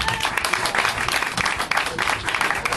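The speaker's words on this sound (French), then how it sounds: "les artistes vont vous applaudir" Audience applause at a Sidaction charity cabaret evening, a dense, steady patter of many hands filling the room for nearly three seconds with no gaps.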